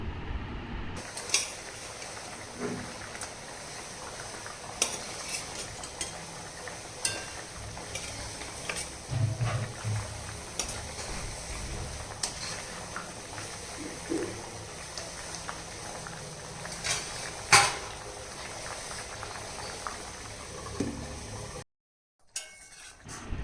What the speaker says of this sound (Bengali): ঝোলটা ফুটেও গেছে এবার আমি ভেজে রাখা মাছগুলো দিয়ে দেবো অবশ্যই খুন্তি দিয়ে দেবো